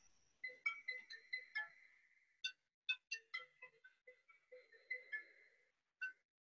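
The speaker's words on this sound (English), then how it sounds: "So I'm sorry, a phone's ringing." A phone rings in a room, sounding as a series of bright chirping ring bursts with short gaps and then a final single ring, fairly faint and otherwise alone.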